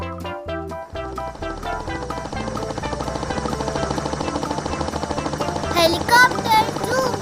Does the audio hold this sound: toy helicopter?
yes